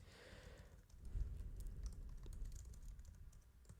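Keys clatter steadily on a computer keyboard during Laravel coding, a dense run of quick taps at moderate level with no voices.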